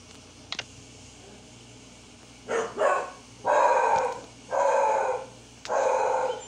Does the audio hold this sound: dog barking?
yes